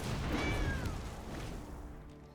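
Ember Cat card being played in MTG Arena, a short synthesized cat yowl sweeping upward then down, loud and alone over a dense game effect backdrop.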